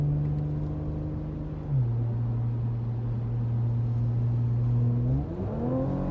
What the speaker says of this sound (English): RS5 around Tailem Bend, one of the world's newest racetracks.